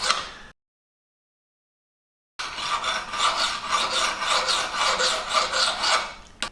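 A kitchen knife blade is drawn repeatedly across a sharpener, producing a rhythmic rasping scrape in close, even strokes after a short stroke and a brief silence.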